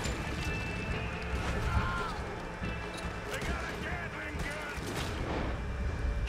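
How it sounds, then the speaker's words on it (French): Repeated gunshots in Red Dead Redemption 2, a series of sharp cracks scattered through a busy game mix of footsteps and ambience, with people talking over it throughout. "De balles tirées là quand même."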